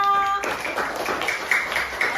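Children in a grade 2 primary school classroom clap together on cue, a burst of quick, close hand claps that starts after a brief tonal sound and continues steadily to the end.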